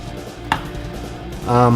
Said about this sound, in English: you're cutting through the onions